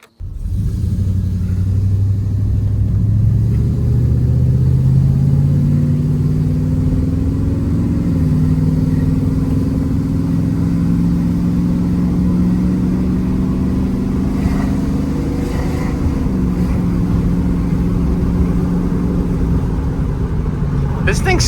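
An old pickup truck engine bought for $900 revs steadily and loud up close, its low rumbling note rising and falling through several sustained pulls over about twenty seconds, with no voices over it.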